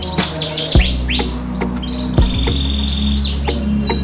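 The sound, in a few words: canary chirping in the morning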